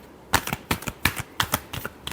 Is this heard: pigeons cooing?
no